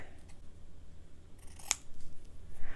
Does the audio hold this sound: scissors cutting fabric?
yes